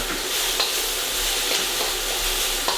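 Noodles fry in a hot pan with bean sprouts for Thai peanut noodles with chicken, giving a steady, close sizzle with faint clicks of stirring and no voices.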